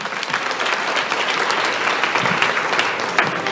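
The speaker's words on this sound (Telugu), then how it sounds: "మంచి డాక్టర్లను బట్టి ఒకసారి చప్పట్లు కొడదాం, మంచి వైద్యులను బట్టి." A congregation at a Telugu Sunday church service claps for doctors, a dense, steady round of applause that fills the room and holds at an even level throughout.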